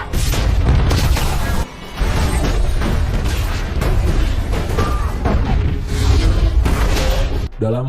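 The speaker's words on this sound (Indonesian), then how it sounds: "ternyata bom peledak yang sudah dipasang langsung meledak" A planted bomb detonates and levels a resort in an action film, a series of loud deep booms and bursts rolling on with debris and whooshes for several seconds.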